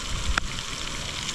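Steaks sizzle in a pan with a steady, soft hiss and crackle, and one brief sharp pop near the start.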